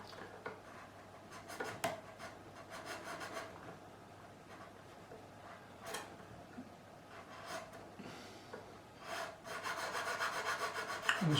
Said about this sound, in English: I need to cut the nut slots anyway, so I'm just going to widen this just to accept the string.